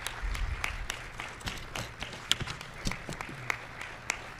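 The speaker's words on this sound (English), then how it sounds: "This clapping is so weird" Sparse, scattered clapping from an audience at a presidential speech by Joe Biden on gun violence; irregular, fairly quiet claps spread across the moment rather than a full ovation.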